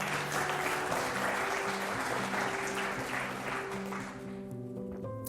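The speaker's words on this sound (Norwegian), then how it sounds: "En varm applaus for panelet." Applause greets a panel at a proptech event in Trondheim, sustained clapping over a low tonal hum, thinning out toward the end.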